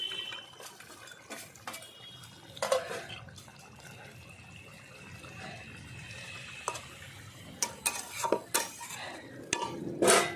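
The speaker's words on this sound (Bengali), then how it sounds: "মরলা মাছ ভাজাটা দিয়ে দিচ্ছি সব।" Fried morola fish goes into bubbling potato curry, with scattered clinks and scrapes of a ladle against the pot and soft liquid sounds, quiet between louder bursts.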